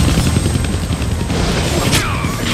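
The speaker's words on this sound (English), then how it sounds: "I can't kill that chopper with my guns." In the Deadpool video game, a helicopter's rotor thump roars loudly and continuously overhead, mixed with bursts of gunfire and explosive booms.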